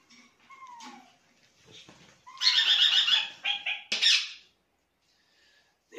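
Small ornamental birds in an indoor room give scattered chirps and squeaky calls, with a denser burst of louder twittering in the middle and quiet gaps between calls.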